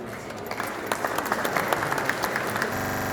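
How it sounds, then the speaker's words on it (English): Audience applause at an art show opening night, a dense steady patter of many hands clapping at moderate distance, fading out near the end. "another round of applause"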